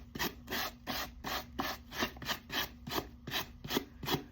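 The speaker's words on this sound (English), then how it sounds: "I take my hard brush and brush all of the excess dirt off." A hard brush scrubbing excess dirt off a pair of preowned shoes in quick, rhythmic strokes, about two per second, each a bristly rasping swish, close and clear with no talking.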